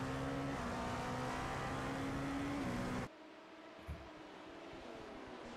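GT race car engines from iRacing at the Autodromo Internazionale Enzo e Dino Ferrari in Imola, a loud sustained drone of several cars at speed that abruptly drops to a quieter, more distant rumble partway through.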